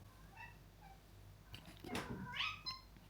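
A cat meows in a short rising and falling call toward the end, under and between casual French talk from a nearby person indoors.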